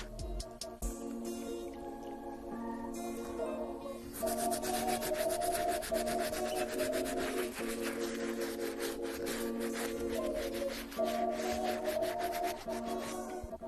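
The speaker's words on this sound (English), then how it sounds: "We'll be using this brush to take care of the deep stains on the leather." Medium-bristle brush scrubbing the leather upper of an Air Jordan 1 sneaker, steady close rasping strokes in repeated bursts with brief pauses, loud and alone.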